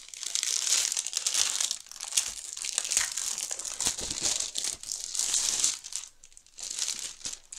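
Stamperia Provence craft paper being handled close up, with loud crisp crinkling and rustling in irregular bursts and short pauses, without voices.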